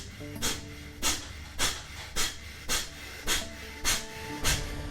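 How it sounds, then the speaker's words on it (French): Breath of fire rapid breathing exercise, a steady run of about nine sharp, forceful nasal exhalations at an even, fairly quick rhythm, close and breathy with a soft hum underneath and no talking. "Respiration du feu."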